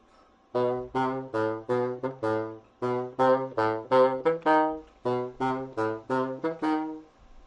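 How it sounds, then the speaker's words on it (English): A bassoon plays a lively phrase of short, detached notes in a bouncy rhythm, reedy and close, with brief gaps between groups. "And that is the bassoon."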